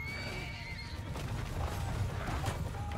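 Cavalry horses neigh and whinny during a video game battle in a bandit kingdom campaign, their calls rising over a dense, continuous roar of fighting with faint hoof clatter beneath.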